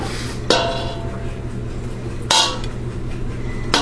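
Three sharp ceramic clinks of a plate and cutlery spaced over a few seconds while pasta is served, each strike ringing briefly and close above a low steady kitchen hum.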